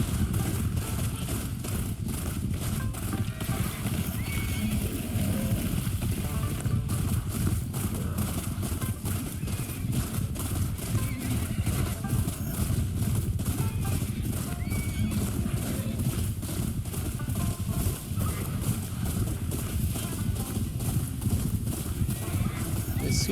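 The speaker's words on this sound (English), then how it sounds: "I'm wondering why all these horses are following me though." Horses in the video game Ghost of Yotei, with steady rhythmic hoofbeat clip-clops running throughout alongside occasional neighs over continuous game ambience.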